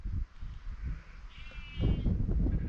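Sheep resting under a tree in the Scottish countryside let out a quavering bleat partway through. It sits over loud, rumbling wind buffeting the microphone and moderately close outdoor noise.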